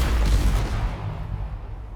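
A bazooka shot detonates in the space game Space Engineers, a loud, deep boom at the start that rolls into a long, rumbling decay lasting the full two seconds, with no voice over it.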